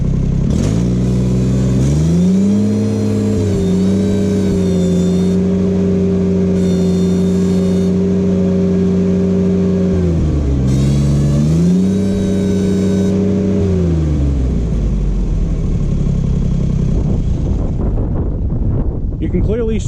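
A Ventrac tractor engine held at full throttle with the lift raised fully, roaring loud and close with rising and falling pitch as the load changes, then dropping away toward the end amid wind buffeting.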